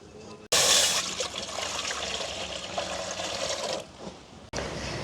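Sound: water being poured into a cooking pot

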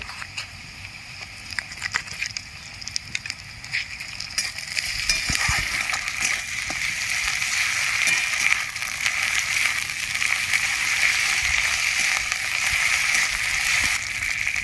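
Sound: onions frying in oil with ginger garlic paste added

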